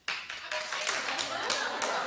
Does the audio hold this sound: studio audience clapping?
yes